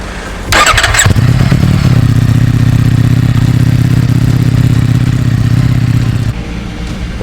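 Ducati Streetfighter V4S fitted with a road-legal Akrapovic exhaust fires up with a sharp burst, then holds a loud, steady, deep rumbling idle for several seconds before cutting off, close by with no talk.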